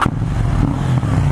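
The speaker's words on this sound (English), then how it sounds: "You're gonna listen to the sound of this exhaust." A KTM 790 Duke motorcycle engine and exhaust run close by with a steady, deep rumble that holds at an even level without a clear rev.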